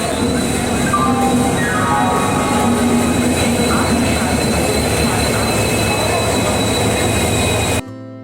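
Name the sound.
train slowly entering the station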